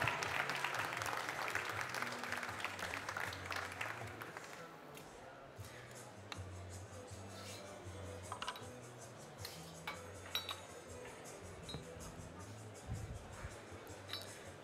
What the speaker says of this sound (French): un petit peu d'encouragement et d'applaudissements pour elle